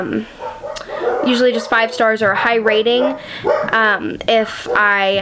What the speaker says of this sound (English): Sorry, you can hear the dogs.